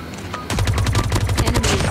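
Rapid bursts of Peacekeeper fire in a shooter video game start abruptly after a quiet moment, then continue as a dense, loud stream of shots with no talk.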